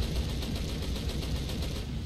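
Aircraft machine guns strafing in War Thunder, a continuous dense rattle of rapid fire over steady engine roar, loud and unbroken throughout.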